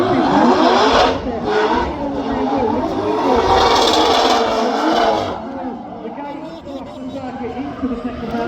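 A drift car engine revs hard and screams at high pitch through a roundabout at a Goodwood drift competition, rising and falling continuously and loud, with a voice talking over it.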